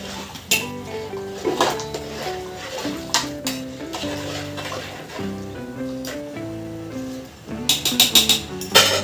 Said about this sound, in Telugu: కడిగి పెట్టిన రైస్ మొత్తం వేసేసి ఒకసారి అయితే కలిపేసుకోవాలి